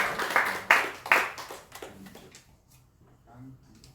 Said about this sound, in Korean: 우리 박수 환영하겠습니다